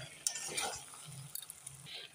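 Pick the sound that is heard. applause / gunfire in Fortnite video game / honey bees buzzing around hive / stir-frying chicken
stir-frying chicken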